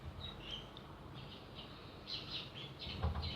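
A morning chorus of many bird species, faint chirps and short whistled calls that overlap at a distance above a low, even background hiss.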